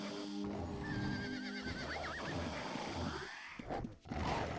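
A horse in the online game Ultima Online gives a wavering whinny over a busy bed of game noise, hoof-like thumps and combat sounds, moderately loud and up close.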